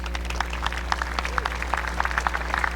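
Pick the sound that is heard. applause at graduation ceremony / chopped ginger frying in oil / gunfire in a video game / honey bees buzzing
applause at graduation ceremony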